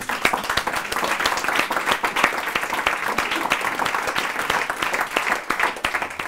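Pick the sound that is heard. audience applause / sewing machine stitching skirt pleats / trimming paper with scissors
audience applause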